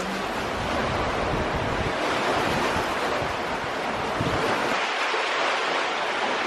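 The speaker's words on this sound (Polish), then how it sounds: "Woda wdziera się wszystkimi filarami." Heavy sea surf churns and splashes continuously around pier pillars in Gdynia, rushing water loud and close, with wind buffeting the microphone; the roar eases slightly near the end.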